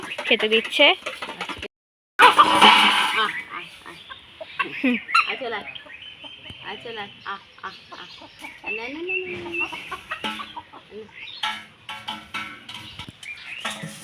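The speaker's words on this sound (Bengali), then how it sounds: "মা এখন আমাদের মুরগিদের খেতে দিচ্ছে" Chickens cluck and squawk steadily nearby, with a brief burst of louder flapping and calls early on, while people talk over them.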